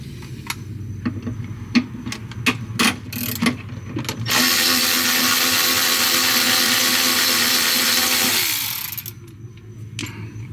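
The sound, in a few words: power tool removing bolts on a Jeep Wrangler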